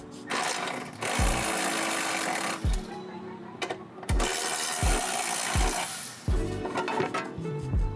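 Power tool whirring as it unscrews the strut top nuts on a 2004 BMW E46 330i ZHP, in loud sustained runs broken by short stops and sharp starts, close up with no speech.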